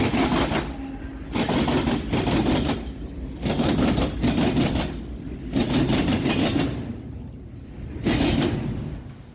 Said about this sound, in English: The first proper train of this location was a BNSF westbound intermodal